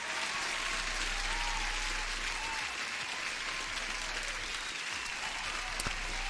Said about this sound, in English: So huge applause for Naga.